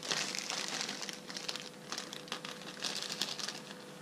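A flattened plastic bag being opened, continuous close crinkling and rustling with bursts of louder crackle throughout.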